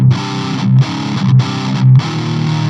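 Distorted vintage-style metal guitar with its harsh control cutting the highs plays tight, chugging palm-muted riffs in short bursts separated by brief gaps, loud and upfront with no talking.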